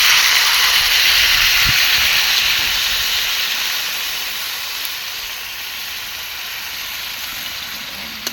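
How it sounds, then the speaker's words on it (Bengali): Water poured into a hot pan of frying vegetable stalks sets off a loud, close, broad hissing sizzle that slowly fades and softens over several seconds, with no talk. "এইবারে জল দেবো।"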